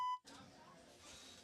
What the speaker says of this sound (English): I can hear the beep.